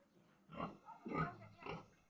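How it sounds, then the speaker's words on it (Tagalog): A backyard pig gives three drawn-out crying squeals in a row, close and fairly quiet, with short pauses between calls. "Ang baboy namin na umiiyak."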